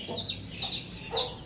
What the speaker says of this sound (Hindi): तो अभी हम फैंसी मुर्गों को खोल देता हूँ।